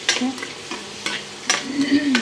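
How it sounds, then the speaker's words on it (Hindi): Onions sizzle in a hot pan as a tempering while being stirred, with scraping strokes at irregular intervals over a steady frying crackle, close up. "मैंने प्याज का तड़का दे दिया है"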